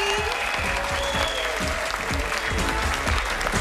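An audience at a Singapore concert event applauds warmly to welcome a guest singer, a dense continuous clapping from a crowd with a faint voice beneath.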